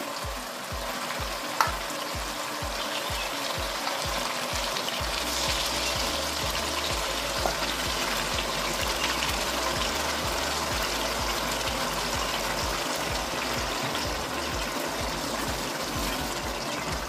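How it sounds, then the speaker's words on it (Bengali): Boiled taro leaves go into a pan of chickpeas and spices frying in oil, raising a steady loud sizzle with stirring scrapes and a rhythmic low knocking early on, close and continuous. "এবার আমি সেদ্ধ করে রাখা কচুর শাকগুলো দিয়ে দেবো।"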